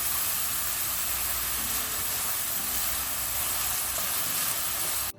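Finely chopped onions frying in hot oil with cumin, bay leaf and dried chili, producing a loud, dense, continuous sizzle and hiss close to the mic, with faint stirring and no speech, cutting off abruptly at the end.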